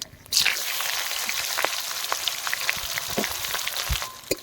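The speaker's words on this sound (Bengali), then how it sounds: "এখন আমরা কেটে রাখা পেঁয়াজগুলো দিয়ে দেবো।" Chopped onions added to hot oil tempered with cumin, dried red chillies and bay leaves for mutton-fat ghugni, a sudden sizzle onset followed by steady frying hiss with scattered pops and light stirring knocks.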